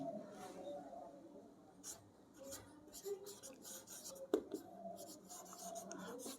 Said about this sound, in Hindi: एक लाइन लिखते हैं यहाँ पे